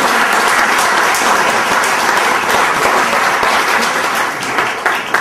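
A large audience at a conference opening speech claps in a dense, steady burst of applause that stays loud and continuous throughout before tapering slightly at the end.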